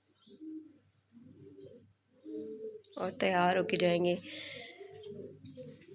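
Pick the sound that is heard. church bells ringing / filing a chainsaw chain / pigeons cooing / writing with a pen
pigeons cooing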